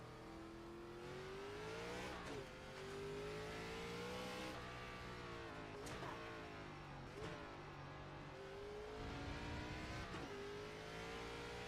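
A race car engine in the iRacing sim game revs hard and steadily with rising pitch through the gears, broken by several quick shift drops, loud and continuous with no talking over it.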